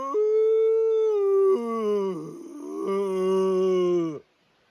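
A man imitates a Bigfoot howl in a mountain wilderness, a loud, sustained wavering tonal cry lasting about four seconds with a brief dip in the middle before cutting off abruptly.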